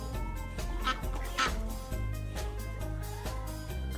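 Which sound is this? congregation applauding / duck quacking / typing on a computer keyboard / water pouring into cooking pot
duck quacking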